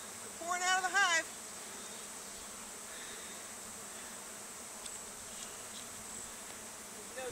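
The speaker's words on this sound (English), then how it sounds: "They're pouring out of the hive." Honeybees swarming out of a hive outdoors, a steady faint buzzing hum throughout with a brief louder, closer burst near the start.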